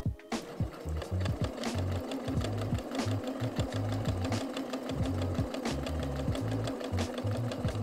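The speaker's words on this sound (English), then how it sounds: "Decrease your stitch length and sew along your guideline." A sewing machine stitches a scalloped curve on a dress at short stitch length, running steadily with a fast, even mechanical chatter and rhythmic needle knocks, close up.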